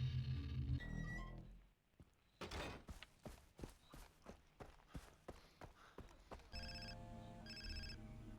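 A phone rings inside the video game Far Cry 3, sounding as a repeated electronic ring with two clear bursts near the end, after in-game footsteps and other game sounds.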